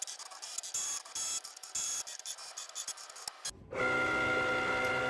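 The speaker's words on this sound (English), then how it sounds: "let's try to put it through the machine again" A Cricut cutting machine draws a print-then-cut sheet inside, a brief mechanical whir followed by a steady, louder motor hum that holds to the end, close and with no talking.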